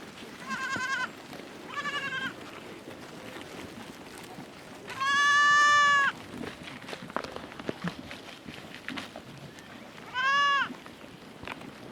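Goats bleating on a farm pasture at their first outing of the year, four separate nasal calls spread across the stretch, one longer and louder than the rest, over a quiet outdoor background.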